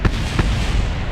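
A junkyard rocket test sets off a loud, close explosion, heard as a sharp crackling pop followed by a second burst amid rumbling noise.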